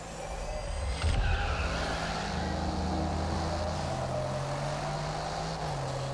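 A steady, droning car engine in the racing video game Test Drive Unlimited Solar Crown hums continuously with a low, even pitch, loud and close, with no talking over it.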